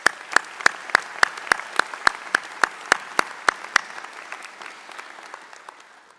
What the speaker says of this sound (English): Please join me in applauding the faculty and preceptors who have done so ably prepared our graduates.